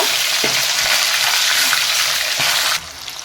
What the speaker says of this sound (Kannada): ಎಣ್ಣೆ ಕಾದಿದೆಯಲ್ಲ ಈಗ ಸ್ವಲ್ಪ ಸ್ವಲ್ಪ ಕಾಳನ್ನು ಈ ಥರ ನಾವು ಕೈಯಿಂದ ತಗೊಂಡು ನಿಧಾನಕ್ಕೆ ಬಿಟ್ಕೊಳ್ಳಿ